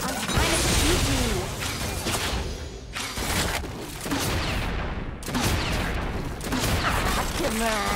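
Jinx firing her gun in the video game Wild Rift, rapid bursts of shots in several volleys with short gaps between them, loud and close over busy battle effects.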